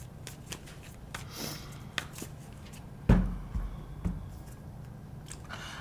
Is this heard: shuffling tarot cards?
yes